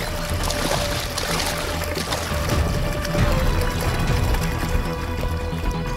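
Water pouring and splashing during a bath at a pump set, a continuous close rushing flow with shifting splashes throughout, no talking.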